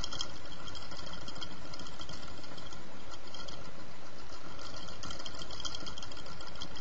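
A homemade Newman motor switched by a reed switch spins continuously, giving a steady, buzzing whir with a fast rattling pulse, close and constant for the whole stretch.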